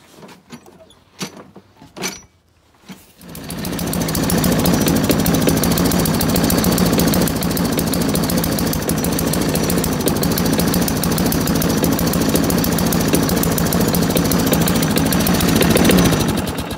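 A Tecumseh engine on a Craftsman lawnmower with a faulty carburetor starts after a few clicks and clunks, then runs with a loud, steady, rattling drone close by for the rest of the clip.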